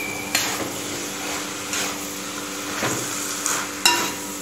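Traditional Kerala aviyal, a mixed vegetable curry cooked on low heat, is stirred in a pan. A soft sizzle and a low simmer run under several sharp metallic clinks and scrapes of the spoon against the pan.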